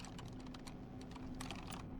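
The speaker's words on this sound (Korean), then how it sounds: "키보드에서 Y를 누르고 엔터" Rapid clicks from a computer keyboard come in a quick run of key presses, close-up and faint over a low steady hum.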